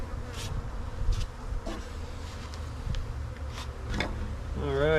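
Bees from a very small colony buzz around their hive, a steady close insect hum with individual bees droning past, continuous throughout with no talking.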